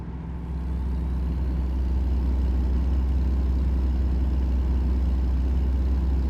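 A truck engine in a highway driving video game drones steadily at a low idle-like rumble, loud and continuous after a brief rise at the start, with no voices.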